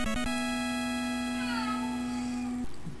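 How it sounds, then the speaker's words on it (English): A house cat gives one long, drawn-out meow close to the microphone, a sustained tonal call with a rising bend partway through, heard alone in a quiet room. "Did your cat just cheer me on too?"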